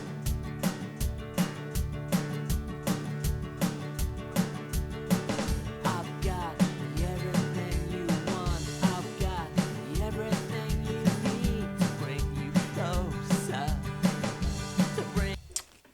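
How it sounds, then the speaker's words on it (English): Programmed drum pattern at 161 BPM, mostly kick and snare with a couple of toms and the odd cymbal, driving in a fast, steady rhythm over sustained tones, dense and loud throughout before stopping abruptly. "It's mainly snare and kick at the moment."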